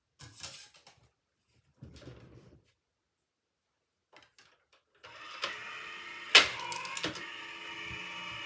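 A craft embossing machine pulls a card through for texture. A few short mechanical clicks and rustles come first, then a steady close grinding rumble with a couple of louder clunks as the card feeds through.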